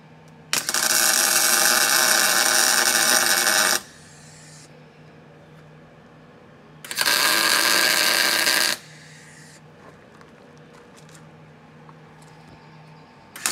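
Tack welding a toothbar base plate and side plates: two sustained bursts of harsh crackling buzz, each about three seconds long, separated by a quiet pause with a faint background hum.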